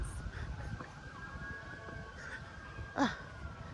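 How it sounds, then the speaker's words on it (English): A distant police or ambulance siren wails faintly over low traffic rumble in Miami, its tone holding steady and then sliding, with a brief louder burst near the end. "Y'all hear the Miami nature police sirens."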